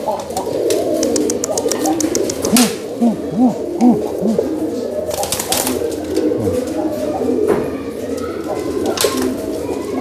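Racing pigeon cooing inside an iron cage, its soft repeated coos rising and falling in a short series amid a busy background of other birds, with a few louder bursts and faint voices.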